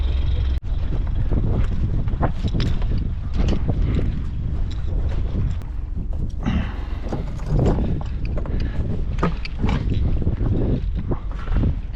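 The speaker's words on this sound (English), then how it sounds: "Nobody is reporting this breeze right now." Steady northwest breeze blowing across a sailboat and its microphone, a continuous loud rushing and buffeting with gusty surges throughout and no talk.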